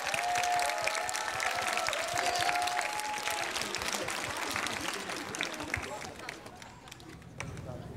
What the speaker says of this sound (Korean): 우리 예수님께 감사와 찬양의 영광의 박수 드리겠습니다.